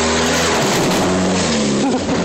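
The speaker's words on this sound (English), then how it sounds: "That's the exhaust." Loud, continuous car engine with harsh exhaust roar, steady droning harmonics over broadband noise, close by and alone for about two seconds.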